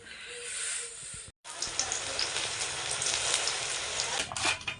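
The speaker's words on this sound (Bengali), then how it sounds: "চলো দেখি মা বেগুন ভাজছে" Eggplant slices frying in hot oil in a home kitchen, a steady close sizzle and hiss that cuts out briefly and then resumes with crackling pops and spatters.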